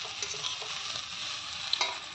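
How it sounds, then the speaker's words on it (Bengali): Taro and two potatoes frying in a pan with green chilli, onion and black cumin, a steady close sizzle with soft stirring scrapes and a sharper clink near the end, brief and without talk. "এখানে শোলা কচু আর 2টা আলু কেটে দিয়ে ভাজা করছি"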